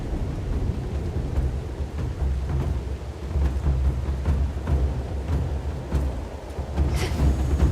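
A thunderstorm in the video game Hades 2 fills the scene with steady heavy rain and low rolling thunder, a dense continuous roar with no voices.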